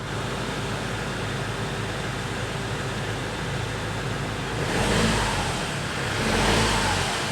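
A Land Rover Defender 2.2 engine with a faulty remap idles steadily, then revs up in two short surges near the end before settling back.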